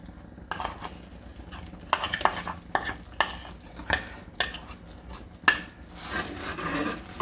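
Almonds, cashews, walnuts and whole makhana are stirred in a pan with a spoon, giving soft scraping and rattling strokes with occasional sharper knocks, close and quiet with no talk.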